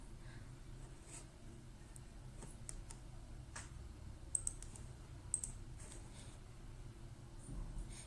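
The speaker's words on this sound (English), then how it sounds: "we'll click here on the download button and it started" Sharp, quiet mouse clicks land on a download button over a low room hum, with a few scattered softer ticks between them.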